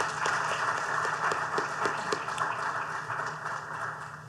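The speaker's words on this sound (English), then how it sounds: "please give a round of applause for our outstanding educators in the room" An audience applauds school principals and educators at a policy discussion event, a dense steady wash of clapping from a crowd, fairly loud and even throughout, with no voices over it.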